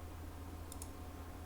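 Two quick, faint mouse clicks land close together on a button in trading software, set against a steady low electrical hum.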